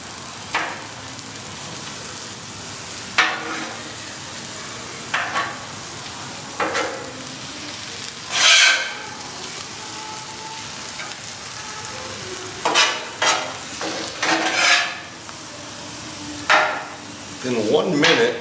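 Philly beef with onions and cheese sizzles steadily on a hot grill, interrupted every few seconds by scraping tosses of a metal spatula, several clustered near the end, close and fairly loud.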